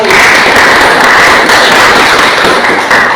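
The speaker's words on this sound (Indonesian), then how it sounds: "tepuk tangan dulu untuk kelompok 1" A classroom group claps for the first presenting team in an automotive engineering class, a loud, dense, continuous burst of many hands that stays steady and close throughout.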